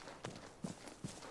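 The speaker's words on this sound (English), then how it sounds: "And right here, I'm hearing footsteps." Faint footsteps in the online shooter game Vigor, three soft, evenly spaced steps about 0.4 seconds apart, quiet and distant against a low background.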